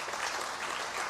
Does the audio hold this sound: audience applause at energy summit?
yes